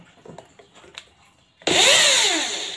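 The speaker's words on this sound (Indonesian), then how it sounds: "pakai bor soalnya kalau pakai obeng lama jadi aku pakai bor ya" A few faint clicks and taps, then an electric drill whirs loudly and up close while removing screws from an active speaker, its pitch rising and dipping as it works.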